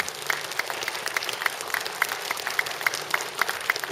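Audience applause at a Korean National Assembly member's 2023 legislative report meeting, a steady dense wash of clapping with brighter individual claps standing out throughout, moderately loud and without talk.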